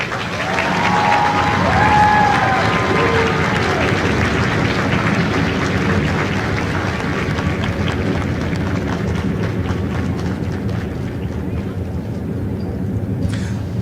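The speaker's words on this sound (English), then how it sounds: "please join me in a round of applause for the company staff of Company L" A crowd at a Marine recruit graduation ceremony at MCRD San Diego applauds the Lima Company staff, a sustained, dense outdoor clapping that holds steady throughout and slowly thins toward the end.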